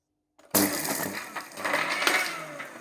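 A mixer grinder grinding coconut, fenugreek seeds, red chili, salt and a little water switches on abruptly and runs loud and steady at close range, with no talking.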